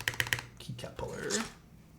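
A GMK spacebar on a mechanical keyboard is pressed, giving three quick, crisp clacks in a row before a voice briefly speaks.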